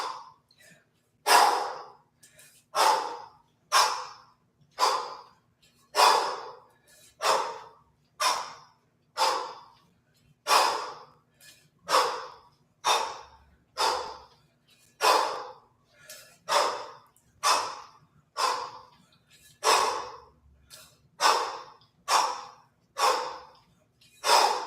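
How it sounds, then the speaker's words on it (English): Heavy, deliberately exaggerated breathing during kettlebell snatches: forceful exhales repeat in a steady rhythm about once a second, close and loud, each a sharp breathy puff followed by a brief pause, with no talk. "I'm going to exaggerate my breathing so you can hear."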